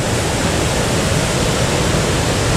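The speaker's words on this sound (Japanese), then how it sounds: "あれ、いきなり滝があるの。" Naena Falls in Myoko, Niigata, a large mountain waterfall, roars as a loud, steady, dense rush of falling water, close and unbroken throughout.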